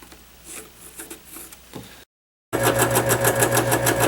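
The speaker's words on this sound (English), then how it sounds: "this is a scroll saw" A scroll saw, running close to its lowest speed setting, starts after a short silence with a loud, steady mechanical buzz and rapid blade rhythm, preceded by quieter handling sounds.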